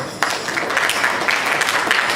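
A hall audience claps loudly and continuously before a piece at a symphony orchestra's children's concert, a dense, close patter of many hands starting abruptly and holding steady throughout.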